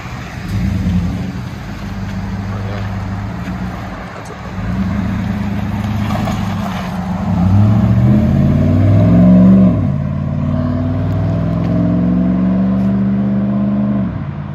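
A lifted 2011 Chevy Avalanche with a 5.3-liter V8, stock converters and a loud aftermarket exhaust revs up and settles back several times, a deep rumbling drone that swells and falls close by with no talking.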